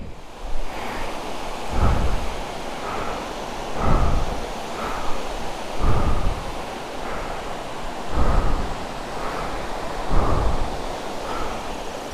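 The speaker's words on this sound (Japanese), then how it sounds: "浴びるやんこれ、滝。" A waterfall at Sasa no Taki in Totsukawa village roars close by, a dense, steady rush of water with surging swells every couple of seconds and no talking.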